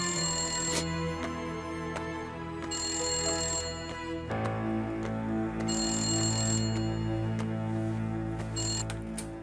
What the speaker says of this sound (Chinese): 去接电话啦